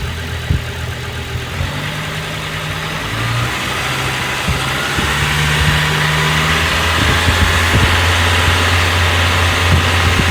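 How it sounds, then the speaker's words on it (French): A car engine idles during an alternator charging-circuit test, then its pitch steps up gradually as the revs climb slowly and steadily, a close, even motor hum with no voices. "On va accélérer lentement le moteur"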